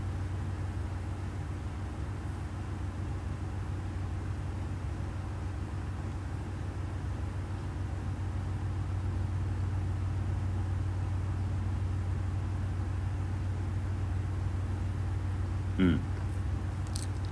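A spinner turns an acrylic paint pour made with white cell activator, giving a steady low whirring hum that runs unchanged throughout. One brief click sounds near the end.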